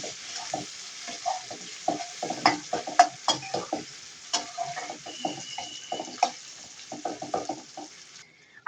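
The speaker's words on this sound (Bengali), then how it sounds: "দিয়ে দিয়েছি তেজপাতা, দিয়ে দিয়েছি কাঁচামরিচ চেরা, এলাচ, লবঙ্গ, দারচিনি, নাড়িয়ে নিচ্ছি" Bay leaf, slit green chillies, cardamom, cloves and cinnamon fry in hot oil while being stirred in a pan, giving a bright crackling sizzle broken by quick, busy spoon scrapes and clinks, close and fairly loud.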